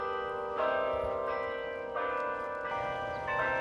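A bell on Central Park's musical clock in New York, struck by hammer-wielding monkey figures, rings out in several evenly spaced strikes, each a clear resonant tone that overlaps the fading hum of the last.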